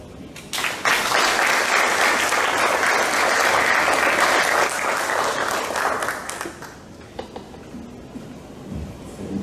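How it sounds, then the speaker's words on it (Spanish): Audience applauding the filmmakers at a short documentary screening: a sudden burst of loud, dense clapping from a crowd that holds steady for several seconds, then thins out into scattered individual claps. "Entonces, un fuerte aplauso."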